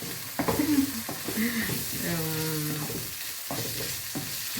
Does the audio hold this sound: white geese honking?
no